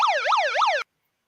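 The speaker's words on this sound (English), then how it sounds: "you got to give me the siren note first" A short burst of an emergency siren sound effect wails in rising and falling sweeps, loud and alone, then cuts off abruptly.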